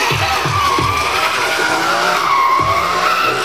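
A drift car slides around a race track, its tires screeching in one continuous loud squeal with wavering pitch over engine revs and a faint crowd.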